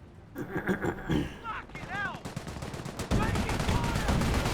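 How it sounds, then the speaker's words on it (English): Machine gun fire from an MG carrier in the real-time strategy game Company of Heroes, rapid bursts crackling amid other battlefield gunfire and explosions, with a commentator talking over the action. "MG carrier firing away."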